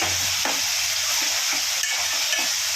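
Onions and ginger paste frying in a pan, with a constant loud sizzle and soft scraping strokes as a spoon stirs them, no voices.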